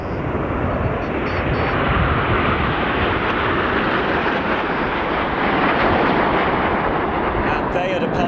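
A Frecce Tricolori display jet roars past at the Royal International Air Tattoo 2022, a loud, broad, continuous engine rumble with crackle that holds steady throughout, while a commentator talks over it.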